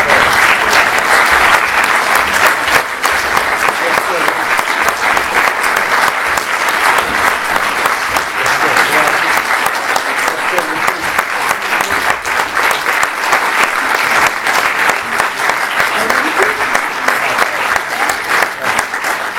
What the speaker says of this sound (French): Vous devez l'applaudir